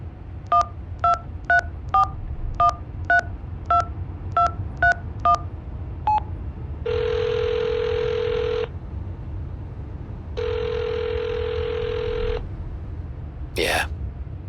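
Telephone number being dialed in the video game Hitchhiker: a quick series of about ten evenly spaced touch-tone beeps, then two long steady tones separated by a pause, with a brief ringing blip at the end.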